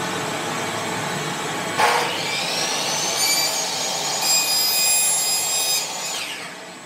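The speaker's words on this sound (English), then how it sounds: "So we are going to employ a little bit of power tool work here and use my miter saw and cut" A power miter saw cuts through a piece of wood: the motor whines up loudly, the blade bites in with a rasping cut for several seconds, then the motor spins down, heard close with no talking.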